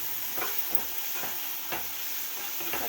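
Onions and tomatoes frying in a pan for a Tamil Nadu–style egg curry, giving a steady close hiss and sizzle with a few soft stirring scrapes scattered through, and nobody talking.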